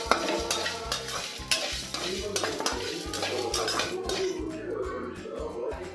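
Chilli and onion fry and are stirred in a pan, with steady scraping of a utensil against metal and clinks over a low background sizzle.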